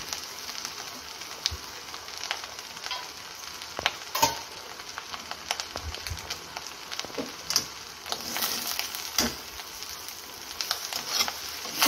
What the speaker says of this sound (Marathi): या भाताला आपण मोठ्या गॅसवरच परतून घेणार आहोत.